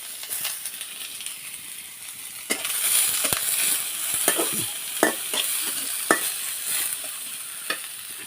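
Two large chopped onions hitting hot oil in a pan after chillies have been fried, giving a steady crackling sizzle with scattered sharp clinks and scrapes of stirring and no talk.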